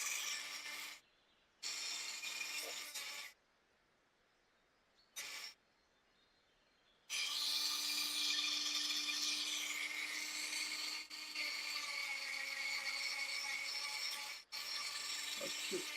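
Rough, scratchy rasping of sanding on PLA plastic in several bursts separated by silent gaps, up close with no speech.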